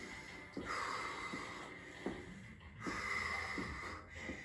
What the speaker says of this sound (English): You hear me breathing? I'm challenged.